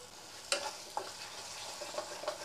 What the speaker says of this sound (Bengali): এই দেখুন ফাটছে, এই যে ফটফট করে ফাটছে